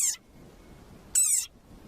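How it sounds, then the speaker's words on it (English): Angry frog giving two loud, high squeaky cries like a squeezed dog toy, each short and close, separated by about a second of near silence. "It sounds like a dog toy. But actually, this is a sonorous war cry of a very angry frog."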